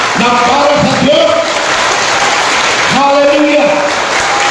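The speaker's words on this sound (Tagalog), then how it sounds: "palakpakan natin ng Lord. Yung palakpak na para sa Diyos" Church congregation applauding in praise to God, steady clapping filling the hall while a voice speaks and calls out over it.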